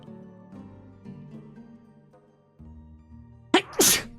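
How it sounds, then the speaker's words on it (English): A single sharp sneeze bursts out near the end, over a soft, steady musical background. "I had to sneeze."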